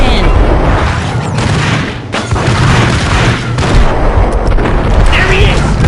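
Loud booming gunfire fills a Max Payne shootout, with heavy repeated shots over a dense wash of action noise and voices talking.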